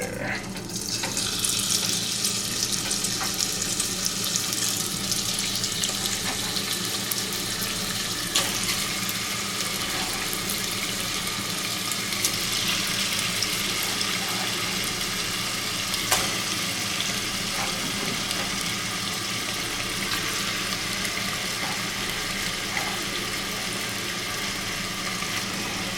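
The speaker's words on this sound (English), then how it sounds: "we're going to go over and start our chicken frying" Continuous crackling sizzle of chicken frying in olive oil in a hot pan, steady and close, with occasional sharper pops throughout.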